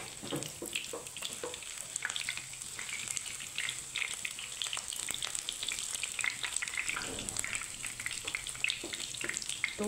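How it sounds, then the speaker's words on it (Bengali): Cabbage snack rolls deep frying in hot oil, a continuous busy sizzle with crackling pops and occasional stirring scrapes, close and steady throughout with no talking. "তো এপিট ওপিট করে মুচমুচো করে ভেজে নেব।"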